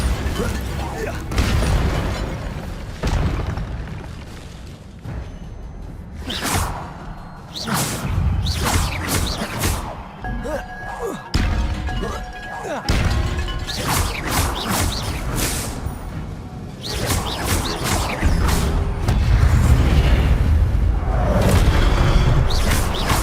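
Spell combat in the video game Hogwarts Legacy brings repeated loud blasts, bursts and whooshes at an irregular pace, with dense noisy hits building toward the end.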